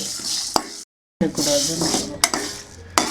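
Spices dry-roasting in a pan for Chettinad fish fry, stirred with a spoon: steady sizzle and scraping with sharp clinks of utensil on metal, close and loud, broken by a brief silent gap.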